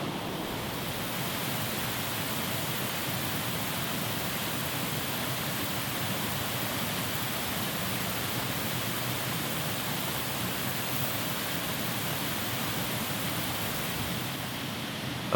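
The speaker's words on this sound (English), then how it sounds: "A closer look is nice to really feel the power of these waterfalls." Proxy Falls rushes in a snowy setting, a steady, dense roar of falling water that stays loud and unbroken throughout, with no voices.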